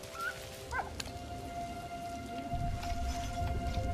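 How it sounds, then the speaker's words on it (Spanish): Steady rain patters in the World War I video game Valiant Hearts, a soft, continuous wash at low volume with faint thunder-like rumbles joining partway through and a few brief tonal game sounds near the start. "no me gusta al pobre perrete la lluvia"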